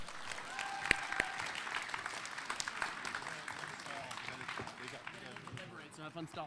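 An audience applauds spoken word performers on a school stage, a steady wash of many hands clapping that holds at moderate level throughout, with a few sharper claps standing out.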